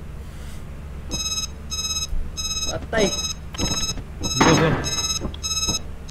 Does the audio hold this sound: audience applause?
no